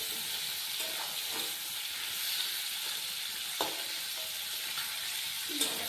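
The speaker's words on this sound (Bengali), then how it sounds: "কাঁকড়াগুলো প্রায় ভাজা ভাজা হয়ে যাচ্ছে।" Crabs fry in hot oil with a steady, fairly loud hiss. A few crackles and stirring knocks break through, and no one speaks.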